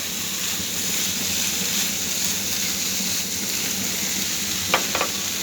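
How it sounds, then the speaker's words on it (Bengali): Prawns and okra frying in a pan give off a steady, loud sizzle, with a couple of brief higher splashy hisses near the end as water goes in. "তারপর আমি এখানে পানি দিয়ে দিব।"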